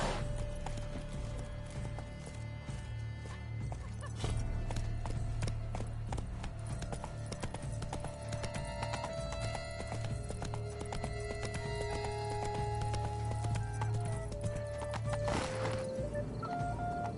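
Steady clip-clop of horse hooves in The Witcher 3, an even trotting rhythm running throughout beneath game music tones, moderately loud.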